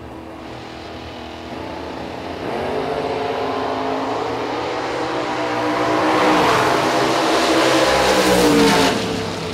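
Two black Camaros launch side by side at a drag strip, engines revving hard and roaring loud and close, the sound climbing and swelling as the cars pull away.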